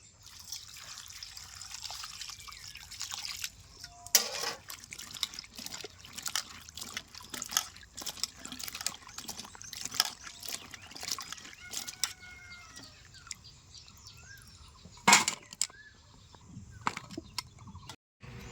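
Sliced home-grown bitter gourd is rinsed by hand under running water, with irregular splashes, drips and trickles, a few louder sloshes standing out and a rooster faintly audible in the background.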